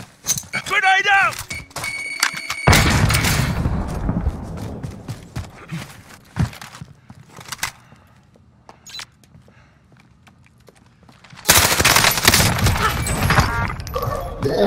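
A grenade blast and gunfire in a Call of Duty match arrive as two loud, broadband bursts that each ring out for a second or two, separated by quieter stretches of footsteps and small thuds, with a voice briefly heard at the start.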